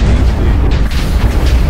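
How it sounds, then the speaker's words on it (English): Bombs exploding in an arena battle video game, a loud, dense booming roar with rumbling low end that sustains across the short stretch without pause. "he's throwing some bombs at you."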